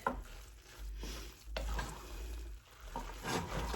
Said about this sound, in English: we're going to stir all that up. Get our butter melted.